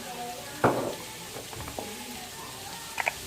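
Gentle sizzling of yam frying in a pan, with a few clinks and stirring knocks over the steady crackle.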